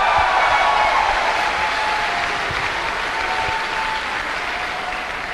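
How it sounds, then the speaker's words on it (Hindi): An audience at a Safe Shop business event bursts into loud, sustained applause, a thick, even roar of many hands clapping that slowly tapers, with no one speaking over it. "एक जोरदार तालियां।"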